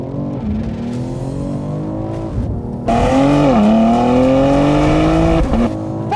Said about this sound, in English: Preparing launch control activated.